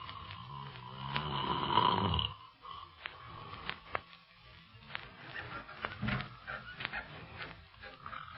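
A man snores in an old radio drama: a loud, rasping snore up front, then quieter breathing with soft clicks and rustles, with no talking.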